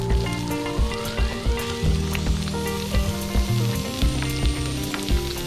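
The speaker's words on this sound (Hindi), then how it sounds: "अभी थोड़ा सा फ्राई कर लेंगे।" Spring onion and chopped onion fry in a pan with a steady, loud sizzle, crackles and pops scattered over a dense hiss, with music-like tones running underneath.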